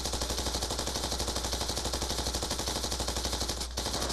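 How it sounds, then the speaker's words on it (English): The Dragonfire drone in Black Ops 2 fires a rapid, unbroken stream of gunshots, with an even mechanical rhythm that holds loud and close for several seconds and a brief dip near the end. "I'm gonna call my dragon fire in. Go, go, my dragon fire."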